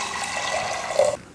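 Water pours steadily into a metal pressure cooker close by, a continuous splashing rush that stops abruptly.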